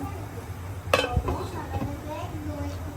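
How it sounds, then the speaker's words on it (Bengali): A lid goes onto a pot of country-chicken biryani with one sharp metallic clank, a softer knock just after, then quiet kitchen background. "ঢাকনা দিয়ে ঢেকে দিয়ে আমরা কিছুক্ষণ অপেক্ষা করব"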